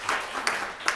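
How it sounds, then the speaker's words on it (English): A brief burst of audience applause at an evening child protection lecture hosted by a law firm, with a few sharp clap accents over a steady patter, fairly close and moderately loud. "Can we just give them a quick round of applause?"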